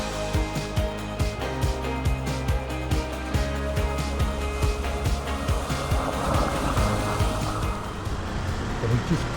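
A 4WD vehicle crossing Waterfall Creek near Sydney sloshes through water with repeated splashes and churning over a low engine rumble, moderately quiet, with some voices in the background.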